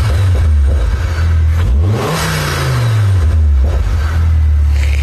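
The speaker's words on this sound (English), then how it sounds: "So I'll take on a run and hopefully hear some more turbo noises." Modified Ford Focus ST engine revving hard, a loud close pitch sweep rising and falling over a steady drone, with turbo whoosh on top and no talking.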